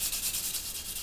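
A coarse sanding sponge rubs briskly across a plastic 1/48 Hasegawa F-14D Tomcat model kit, giving a close, steady scratchy hiss with quick back-and-forth strokes.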